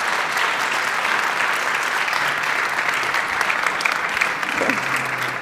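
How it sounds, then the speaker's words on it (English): A conference audience at re:publica 2019 claps for a speaker, producing sustained, dense applause throughout with a steady crowd texture. "Big applause again for Alison."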